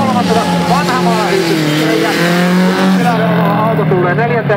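A rally car races past on a track laid out at Pudasjärvi airfield, its engine loud and close and then fading as it goes by, while a commentator talks over it throughout.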